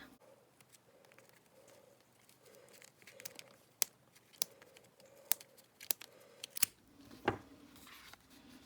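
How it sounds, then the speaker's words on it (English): Scissors snip through yarn while a tassel is being made: a series of sharp, close cuts spaced irregularly over a quiet background, with one heavier crunching cut near the end. "what I do now is I cut the yarn"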